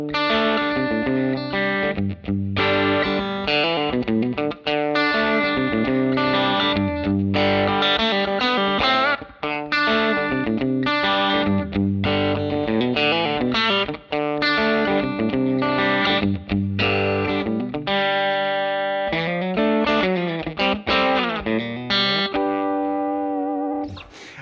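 Distorted electric guitar through a Line 6 Helix modeling a Silvertone 1484 Twin amp plays a continuous run of chords and notes with a processed, effected tone, no talking throughout.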